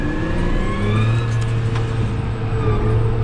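A tractor engine lined up to a silage swath revs up, a loud, close, steady mechanical drone with a rising whine throughout the short stretch.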